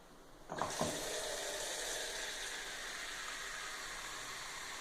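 An old push-top water tap, pressed once, sends water gushing into a sink with a quick splash at the start, then a steady, fairly quiet running flow that continues to the end.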